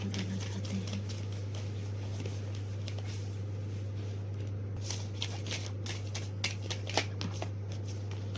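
Oracle cards are shuffled by hand, giving a soft continuous riffling patter with sharper flicks and slaps toward the end, close and quiet over a low steady hum.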